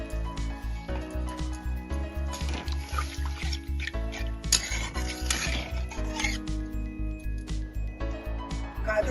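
Milk stirred into frying carrots in a pan, a rhythmic scraping of a spoon against the metal repeating steadily, with light liquid sloshing and occasional clinks.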